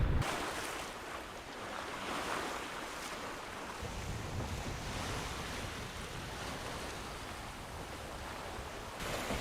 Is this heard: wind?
yes